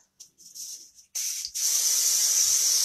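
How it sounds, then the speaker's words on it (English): Hairspray sprayed onto hair from an aerosol can, heard close and loud: a few short hissing puffs followed by one long steady spray, with no talking. "I'm going to spray my hair."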